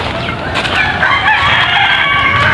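Laying hens at their nesting boxes cluck steadily and loudly, with a rooster-like crowing call rising over the flock for most of the short stretch.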